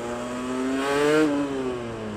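A two-stroke motorcycle engine revs up to a peak and then eases off again, loud and close, with a rising and falling buzzy tone and no voices.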